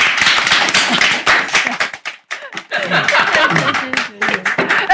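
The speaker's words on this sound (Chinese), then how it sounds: "此处应该有掌声" A studio audience on a Chinese talk show claps in a loud, dense burst that briefly thins out and then picks up again, mixed with laughter and chatter.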